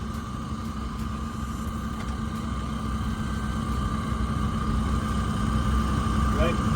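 A stock LS3 V8 car engine with a box cam idles in a steady, even, loud drone that holds level throughout, with no breaks or revs.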